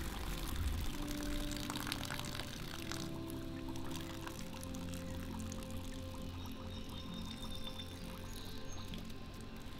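Water drains and trickles out of a bucket of soaked straw tipped against an edge while preparing oyster mushroom substrate; a continuous, fairly soft pouring and dribbling runs throughout with small splashes, no talking.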